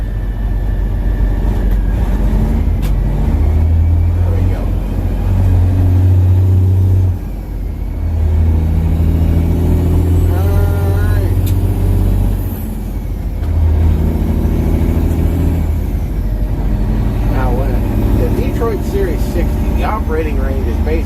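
Big truck engine droning steadily while driving on the road, heard from inside the cab, with strong low rumble throughout and brief dips as the driver eases back; people talk over it.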